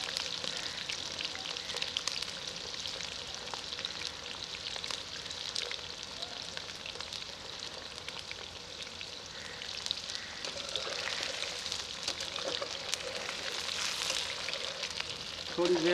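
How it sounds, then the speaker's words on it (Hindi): Potatoes frying to golden in oil in a karahi make a dense, even sizzle that runs steadily throughout, moderately loud and close, with faint bubbling and occasional small clinks. "आलूओं का सुनहरा कलर आने तक फ्राई करेंगे।"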